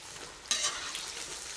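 Chopped onion lands on potatoes frying in a cauldron, bringing a sudden burst of sizzling that stays as a steady, close crackle of hot oil.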